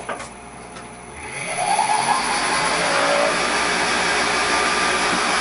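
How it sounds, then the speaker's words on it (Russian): An electric motor on a belt grinder for 610x50 mm belts spins up with no belt fitted, a steady whirring drone that rises from near quiet and holds loud and constant. "запускается двигатель. Вот он крутится."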